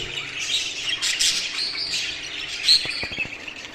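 Several pet birds chirp and tweet inside a cage in a room at home, giving a steady mix of high calls with a few louder squawks near the end.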